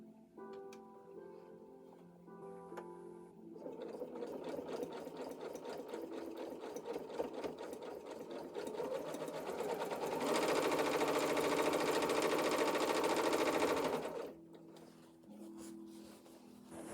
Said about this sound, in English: There are some people who love listening to a sewing machine.